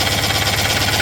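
Citroën 2CV engine idling at close range with a steady low-mid drone and a faint periodic ticking or rubbing, as though something is catching on the alternator pulley; no talking.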